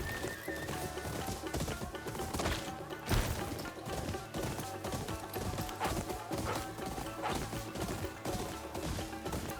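Steady hoof clip-clop from a horse in the video game Ghost of Yotei, rhythmic and close, layered over busy music and effects with occasional thumps and a whinny.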